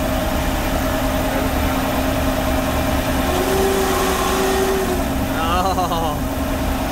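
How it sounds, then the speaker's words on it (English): A tow van's faulty transmission, heard from inside while driving: a steady engine and drivetrain drone with road rumble and a thin whine rising and falling, with talking over it. "we can definitely hear it right here at the transmission"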